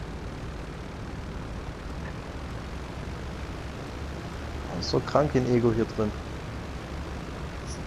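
A continuous airplane engine drone runs throughout in GTA V Online, with a voice speaking briefly over it near the end.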